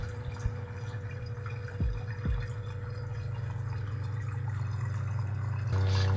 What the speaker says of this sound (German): Und nun beginnt der Wasseraufbereitungsprozess.